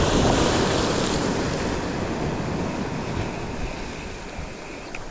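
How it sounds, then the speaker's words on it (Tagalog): Ocean waves and surf rolling at sea, a continuous broad wash with strong wind rumble buffeting the microphone, loudest at the start and easing slightly, no talking. "Yan ang alon."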